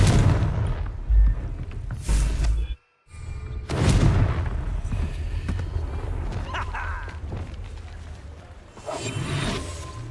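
Fiery explosion spell cast in a Harry Potter video game, heard as repeated booming blasts and whooshes with a sudden cut to silence mid-sequence, loud and close over game effects.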